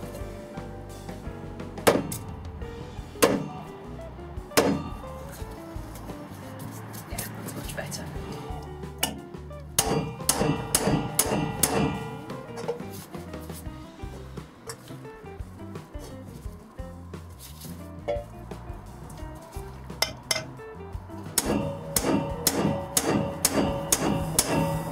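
Holes being punched in a metal bowl on a wooden bench, with sharp metallic hammer strikes that come singly and then in quick clusters, ringing close and clear among quieter clinks and handling noises.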